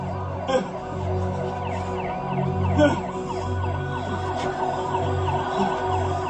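An ambulance siren wails in repeated rising and falling sweeps over a low engine rumble in a tense street scene, with occasional brief voices and knocks mixed in.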